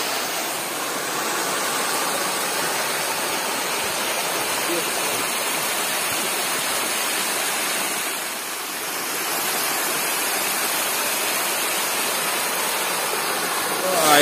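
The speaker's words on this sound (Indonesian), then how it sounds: "Ini aliran Batu Sejajar" A river flows over a bed of rocks at Batu Sejajar near Way Bernung, making a constant broad rushing wash of water that dips slightly midway.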